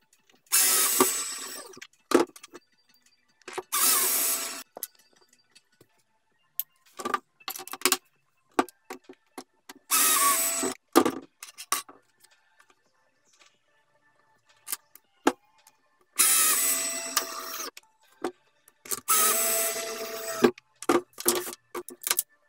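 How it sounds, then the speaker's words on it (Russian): Power tools fit an electrical socket into a SIP panel, with several loud bursts of drilling or driving a few seconds apart, broken up by short clicks, rattles and handling noises. "Сейчас мы установим розетку на СИП-панель."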